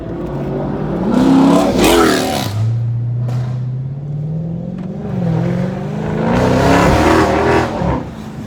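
Car engine revs hard and close, rising in pitch, dropping to a steady drone, then climbing again in a second loud rev, with no talking over it.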